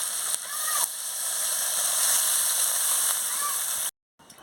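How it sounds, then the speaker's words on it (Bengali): Water is poured into a pan of rupchanda fish curry with carrots, giving a steady splashing, sizzling rush that runs for a few seconds and then cuts off abruptly. "এবারে জল দিয়ে দেবো"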